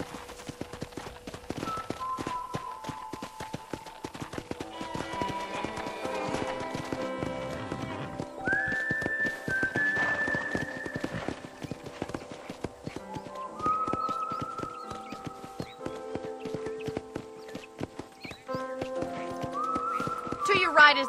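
Horse hooves clip-clop in a steady, quick rhythm throughout in Red Dead Redemption, with whistled melodic tones and occasional voices over the top.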